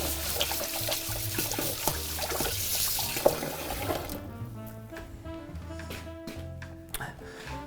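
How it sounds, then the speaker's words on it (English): Hands washed under a running kitchen tap after handling chocolate molds, with a steady close splash and trickle that thins out toward the end, alongside some clinks. "And wash your hands."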